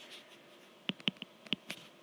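Marker or chalk strokes on a board tap and squeak in a few short, quiet bursts, irregularly spaced in an otherwise still room.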